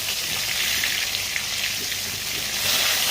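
A large silver carp frying crisp in a pan of oil, a continuous close crackling sizzle with small pops, rising slightly near the end, no talk.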